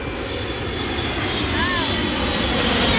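A FedEx jet passes overhead near an airport, its engines roaring steadily and close, with a rising and falling whine as it flies past, growing slightly louder toward the end.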